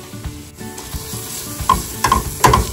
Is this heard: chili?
yes